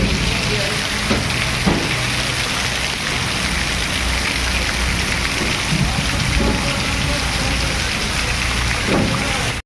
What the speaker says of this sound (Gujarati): આજે મોરબીમાં જોરદાર વરસાદ છે.